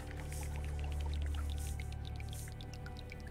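Water pours into a river in the Terra Nil video game, a steady flowing stream with soft dripping accents and a low rumbling hum underneath, heard alone.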